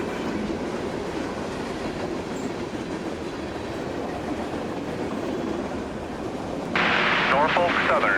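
A Norfolk Southern fast freight rolls past steadily, a broad continuous rumble with rail clatter, joined near the end by a louder, brighter burst of wheel noise.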